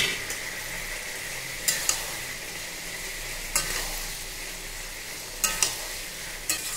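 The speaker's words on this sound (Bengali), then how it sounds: "পোস্ত বাটাটা ভালো করে মিশিয়ে দেব" Poppy seed paste is stirred into a ridge gourd curry seasoned with chilli powder, with a continuous frying hiss and several crisp clusters of spoon scrapes against the pan at intervals, near and without speech.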